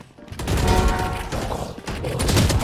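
Close, loud bursts of gunfire in Valorant, rapid shots in two clusters separated by a short lull, with mechanical clatter around them.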